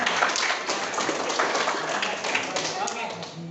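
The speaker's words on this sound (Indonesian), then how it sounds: "Sudah baik, tepuk tangan dulu, teman-teman." Students in a classroom clap together in a quick burst of scattered hand claps, mixed with voices of people talking and calling out nearby.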